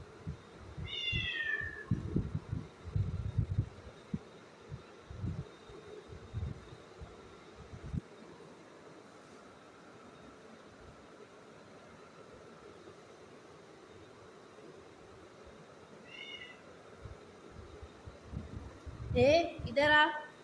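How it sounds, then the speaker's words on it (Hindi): A cat hunting for food meows in a few sharp, separate calls, one near the start, a faint one in the middle and a louder burst at the end. Someone talks quietly between the meows. "इधर आ बिल्ली।"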